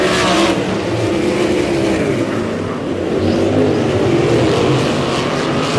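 Sprint cars in a heat race at Humboldt Speedway roar continuously, a loud dense engine drone swelling and fading slightly as the pack circles the dirt oval.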